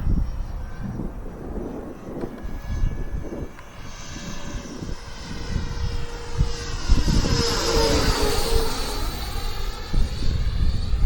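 An FMS Futura 64mm electric ducted-fan RC model jet flies in strong wind, its whooshing turbine-like whine rising and sweeping as it passes, with steady wind buffeting the microphone throughout and no voices.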